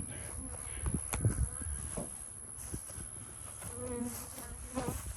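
Honey bees swarm around a hive at an apiary in a cow pasture, their buzzing dense and close, punctuated by occasional knocks and handling sounds.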